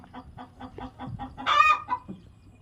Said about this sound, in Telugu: చూడండి మన కోళ్ళు ఎట్లా ఉన్నాయి చూడండి